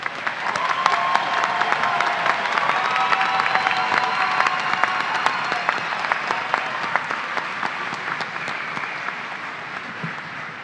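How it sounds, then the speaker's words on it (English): Sustained applause from a commencement audience, dense clapping with some cheering running steadily for about ten seconds without a break, loud and close. "And now let's give our master's students a round of applause."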